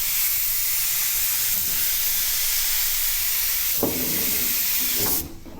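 A spray gun lays a thin coat of paint on a fire-damaged 1969 Ford Escort van, giving a loud, steady hiss that runs almost the whole time, with a couple of brief bumps near the end before it cuts off.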